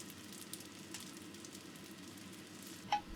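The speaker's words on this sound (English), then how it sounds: "Fry the noodles, pressing down frequently to create a sear until the bottom has formed a crispy golden layer that holds the noodles together." Rice noodles frying in oil in a pan for crispy fried phở, a steady low sizzle and crackle running throughout, with one brief sharper spike near the end.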